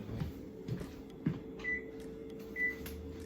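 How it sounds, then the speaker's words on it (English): A kitchen oven being switched on while hamburger sliders are made, giving two short electronic control beeps over a low steady hum and faint handling knocks, with no talking. "let me turn the oven on"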